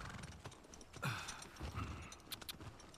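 Horse hooves clip-clop in The Last of Us Part II, a few uneven muffled thuds at a slow gait, moderately loud over low game ambience with no one talking.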